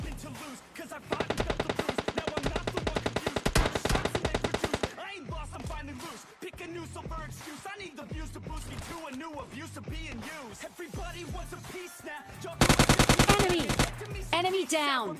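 Rapid automatic gunfire from the PUBG video game, with dense sustained bursts at the start and near the end and scattered shots between, while someone talks over the action.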